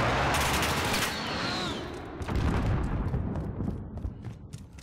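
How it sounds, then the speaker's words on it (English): Airstrike in the Call of Duty Modern Warfare video game: a loud opening blast followed by a long rolling rumble of explosions and debris, with crackling impacts fading out over several seconds. "Oh, airstrike."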